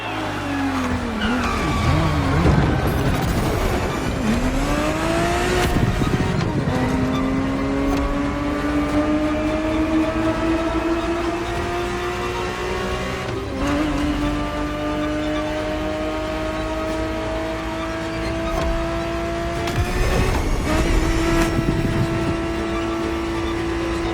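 A Ferrari 365 GTB4 in the racing game The Crew Motorfest revs hard through repeated rising gear pulls, its engine note climbing and dropping at each shift, with bursts of tire squeal through the corners.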